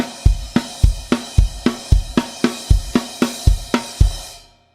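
A simplified drum beat, played without the double bass drums: steady, evenly spaced kick and snare hits with ringing cymbals, close and loud, about ten strokes before fading to silence, with no talking.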